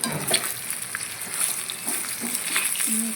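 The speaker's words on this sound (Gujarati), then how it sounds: "તલ પછી અંદર ઢોકળા નાખી દઈશું ફેરવી દઈશું" Khatta dhokla pieces are stirred into a hot sesame seed tempering, producing a continuous close sizzle with soft scraping and stirring noises throughout.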